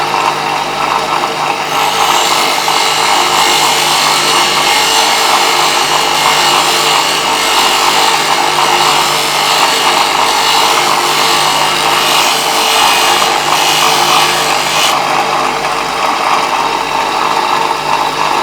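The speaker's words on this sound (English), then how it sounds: "you need to even that bevel up, so we just keep grinding away" Plane blade bevel held against a powered sharpening grinder, a loud, steady abrasive grinding hiss with a constant motor hum underneath, unbroken for the whole stretch and close by, with no voices.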